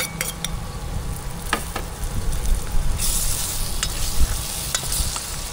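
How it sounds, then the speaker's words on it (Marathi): Tomatoes go into frying masala for mushroom masala, giving a steady close sizzle with scraping stir strokes and a brighter surge of hiss partway through, with no voices. "आता मी यात घालते टमॅटो"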